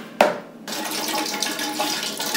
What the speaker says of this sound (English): This is the nettle, which has simmered, and now it'll be strained.